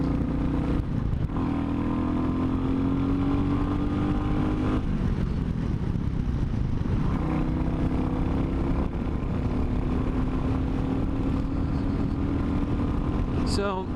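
A Royal Enfield Classic 350 motorcycle being ridden, its single-cylinder engine droning steadily and close with rising and falling pitch through gear changes, mixed with wind and road noise.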